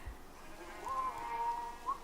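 An explosive sheep in the Minecraft video game gives a faint, thin bleat over steady background hiss, with a short second bleat at the end.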